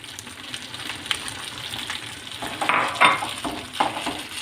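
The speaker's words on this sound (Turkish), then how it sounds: "Taze soğanı biraz kavuracağım artık." Chopped spring onions sauté in a pan with rice already toasted in tomato paste for a stuffed vine-leaf filling, giving a soft sizzle under scraping and stirring clatter that builds to louder scrapes near the end.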